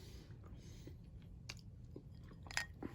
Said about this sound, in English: I can kind of still tell it's still a little crunchy, but we're going to take a bite of it anyways.